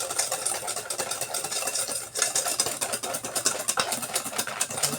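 A spatula stirring thick cookie dough of oats, dried cherries and raisins in a bowl: a continuous close scraping and squelching rhythm, repeating strokes throughout, with no talk over it.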